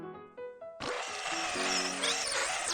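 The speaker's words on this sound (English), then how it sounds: "It wasn't a song, the tape is just worn out." Worn-out cassette tape playing a harsh, distorted song, a dense grinding noise that bursts in after a brief tonal start and stays loud to the end.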